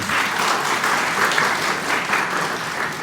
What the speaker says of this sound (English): A huge round of applause for both of them.